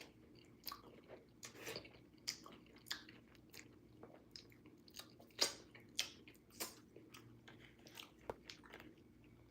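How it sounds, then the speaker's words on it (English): A bite of food with molcajete salsa is chewed up close and quietly. Wet crunches and squishy mastication come in an irregular rhythm, alone without speech. "taking a bite with the molcajete salsa"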